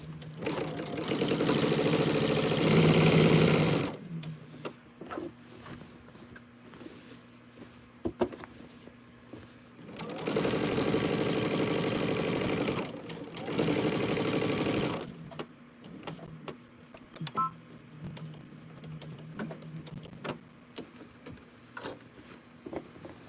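A sewing machine stitches quilting over a flower pattern in steady motorized bursts, loud whirring runs of several seconds separated by quiet pauses, close up and with no talking.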